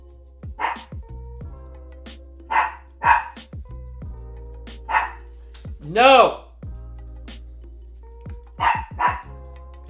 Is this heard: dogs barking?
yes